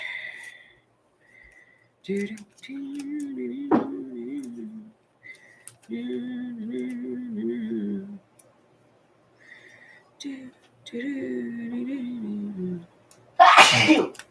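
A single sharp sneeze bursts out near the end, loud and close, after stretches of soft, intermittent background sounds.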